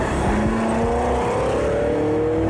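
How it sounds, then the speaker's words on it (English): A fast car pulls off into city traffic in the film Tenet, its engine rising in pitch as it accelerates, with tires and surrounding traffic noise steady throughout. "And now the fast car that doesn't look fast takes off into traffic."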